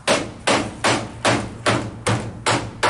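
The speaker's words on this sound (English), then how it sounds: "it'll actually hold it while I'm hitting it with the hammer" Hammer blows strike a wooden treehouse wall, six sharp, evenly spaced whacks about half a second apart, close and loud with no talking.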